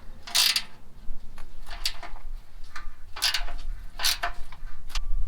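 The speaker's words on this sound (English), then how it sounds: "none of our sockets actually fit, so that's when you're gonna need your wrench" A wrench loosens exhaust header bolts on an 86 sports coupe, giving several close, bright bursts of ratcheting clicks separated by short pauses.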